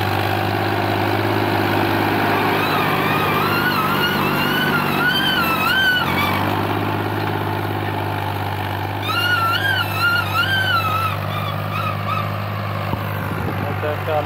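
A brand-new 2023 Fiat 480 Power Plus tractor with big tyres idles loudly and steadily close by, its low engine drone constant throughout while a few higher tones rise and fall over it.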